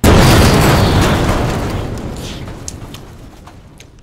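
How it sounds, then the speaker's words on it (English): An explosion sound effect hits with a sudden loud boom, then a deep rumbling roar slowly fades over several seconds. "I should include some sort of explosion effect in there"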